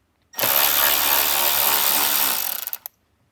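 A power driver whirs steadily for about two seconds, close and loud, backing out screws during a Kicker plug-and-play speaker install in a 2024-or-later Jeep Wrangler or Gladiator, then sputters to a stop.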